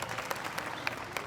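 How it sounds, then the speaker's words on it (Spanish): A church audience applauds a pastor, a brief burst of steady, moderately distant clapping with no talk over it. "Pastor, un aplauso para él."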